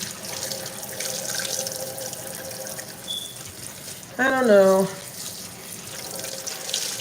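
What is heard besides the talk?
hot water running from a tap while washing dishes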